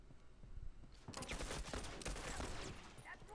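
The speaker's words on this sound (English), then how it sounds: "I'm doing that burst corner shooting that everybody hates" Burst rifle gunfire in The Last of Us Remastered multiplayer, rapid clustered shots starting about a second in and continuing in a dense, fairly loud volley to the end.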